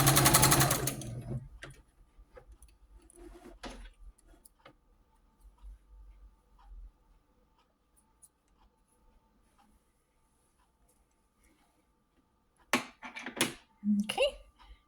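A home sewing machine runs test stitches on a pink rag quilt block after rethreading, a short burst at the start and a few brief runs near the end, with quiet handling between.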